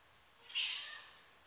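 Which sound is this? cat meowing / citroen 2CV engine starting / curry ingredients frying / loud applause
cat meowing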